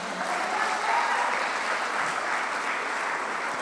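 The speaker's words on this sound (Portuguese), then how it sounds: "Quem pode aplaudir ao Senhor?" A church congregation claps together during a worship service, a steady, dense wash of applause that holds at an even level for the full few seconds without pausing.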